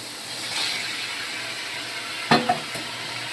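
Chicken drumsticks fry in oily spice masala with a soft continuous sizzle, then a couple of sharp scraping clatters of a spatula against the pan near the end.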